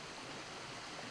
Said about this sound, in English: the way this bottle is designed is you just squeeze it, and the water will go down into the canteen